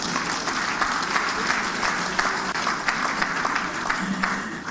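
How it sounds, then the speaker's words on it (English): Audience applause at a formal Nigerian gathering, a steady dense wash of many hands clapping at moderate distance with a few sharper claps rising above it, continuing throughout. "A round of applause for Nigeria as a nation."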